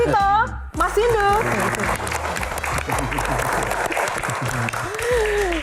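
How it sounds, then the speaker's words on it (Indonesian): Audience applause on a televised panel show greeting a panelist, steady clapping running beneath an excited host's voice and musical tones. "Kang Maman, tepuk tangan lebih meriah lagi."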